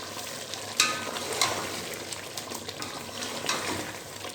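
Green chillies sizzle in hot oil in a kadai for chicken karahi, a steady crackling fry with a few brighter pops and clinks along the way.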